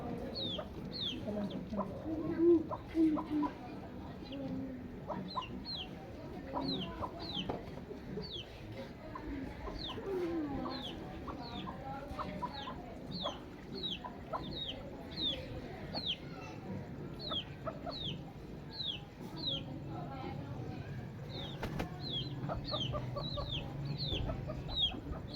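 Hens clucking steadily throughout, with repeated high chirps from chicks or birds and low background noise on a farm.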